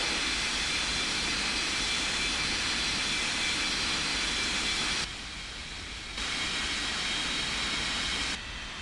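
A jet airliner takes off from runway 21 left with a loud, continuous broadband engine roar that holds steady, then drops in level twice for a second or two before returning.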